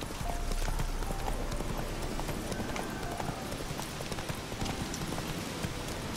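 Horse hooves clip-clop at a steady trotting rhythm in the video game The Witcher 3, a constant dense patter over ambient game noise.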